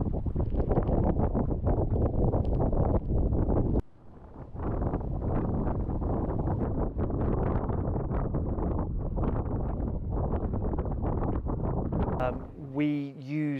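Strong gusts of 40 mph wind buffet the microphone in the Gypsy Glen in the Scottish Borders during an adventure race, a loud continuous roar with a brief lull, and a voice speaking near the end.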